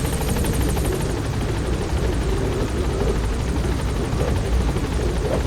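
A helicopter in Metal Gear Solid V climbs, its rotor beating in a dense, loud, steady pulse with a high whine on top and no speech.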